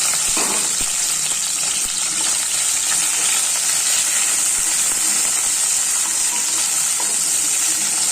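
Chunky capsicum pieces frying in hot oil in a kadai for kadai chicken, a loud, steady, bright sizzle with hissing spatter throughout and no talking.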